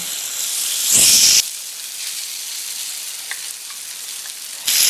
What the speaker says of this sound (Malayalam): ഇനി ലേശം കറിവേപ്പില കൂടെ ഇട്ട് കൊടുക്കുന്നുണ്ട്